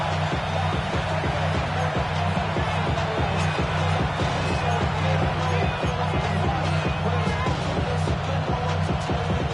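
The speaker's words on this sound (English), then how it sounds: "This crowd doing all they can." Stadium crowd noise from an EA Sports football video game featuring the Cowboys and Eagles, a steady roaring wash of cheering that holds at full level throughout, with no distinct speech over it.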